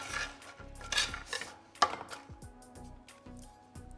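Spiced beer nuts get mixed with a little honey in a bowl, giving close, intermittent clinks, scrapes and rattles of utensil on dish in short bursts, fairly quiet, with no speech.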